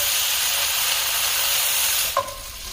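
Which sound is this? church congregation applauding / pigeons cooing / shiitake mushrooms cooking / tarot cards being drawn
shiitake mushrooms cooking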